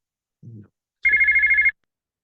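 A phone rings once in a quiet room, a short buzzing electronic trill lasting under a second after a faint brief sound.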